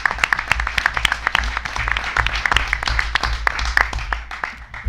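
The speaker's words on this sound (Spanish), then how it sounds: "Un aplauso para Tulita" Audience at a round-table literary event applauds warmly, a dense sustained patter of many hands clapping with sharp individual claps up front, continuing for several seconds against a low room hum.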